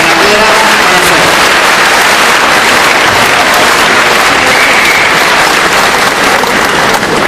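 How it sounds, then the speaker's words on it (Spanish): Sustained, loud audience applause for a speaker at a conference on oral criminal trials, dense continuous clapping from a large crowd throughout. "caluroso aplauso a la maestra Ana Clara Manacero."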